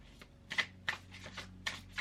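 A matte tarot deck with crispy, shiny red edging being shuffled up close, giving about six soft, papery shuffling bursts in quick, uneven succession.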